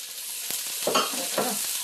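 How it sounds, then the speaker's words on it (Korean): Abalone innards stir-frying in a hot pan for abalone butter-grill, a steady close sizzle with a few louder scraping stirs. "좀 볶다가 이제는 다 익었지만 내장을 넣어요."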